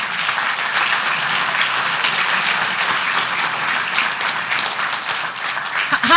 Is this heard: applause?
yes